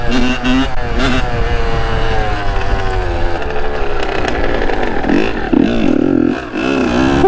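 A Kawasaki KX 85 dirt bike engine runs steadily at a loud, close idle, its buzzy two-stroke note holding even throughout with only slight wavering, with no voices.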